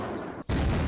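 Loud explosion of a rocket-propelled grenade in the Unturned zombie game, a sharp gap then a dense, roaring blast that fills the whole moment.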